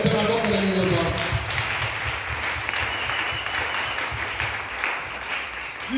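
A congregation at a French-language church service breaks into sustained, dense applause that fills the room steadily from start to finish.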